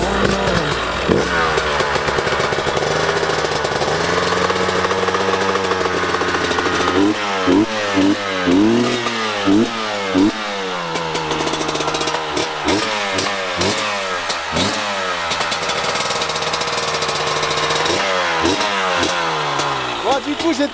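A two-stroke 250 enduro motorcycle engine, ridden in Corsica, idles and then revs repeatedly in sharp rising bursts close to the microphone, with a rough, buzzy tone throughout.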